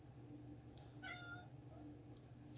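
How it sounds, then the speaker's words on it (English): A single short cat meow rises briefly over a quiet room hum, faint and somewhat distant. "You hear my cat meowing in the background."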